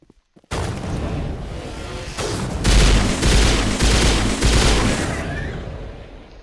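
Shotgun blasts in the video game Mass Effect, a series of several loud, booming shots spaced about half a second apart amid battle noise, with no talk.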